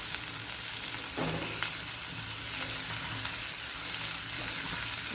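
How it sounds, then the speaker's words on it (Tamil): Onion, garlic and tamarind sizzle steadily in sesame oil for hibiscus thokku, with a soft, even frying crackle and the occasional scrape of stirring, and no talking. "நல்லா வதங்கணும் இந்த வெங்காயம் பூண்டு புளி எல்லாம் நல்லெண்ணெயில் தான் செய்யணும்"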